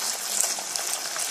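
Meat sautés in a pan: a steady, close hiss of sizzling fat with small pops throughout, even and unbroken for the whole moment, with no voices.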